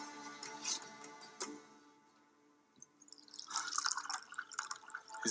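Wine trickles and drips into a cup in a quiet indoor setting, soft splashy pouring sounds coming and going, faint at first and then louder, close by with no talking.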